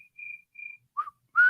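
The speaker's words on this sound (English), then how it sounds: "Yes, we all whistle poorly." A person whistles four short notes: two steady tones, then two brief rising ones, the last loudest, all alone and close by.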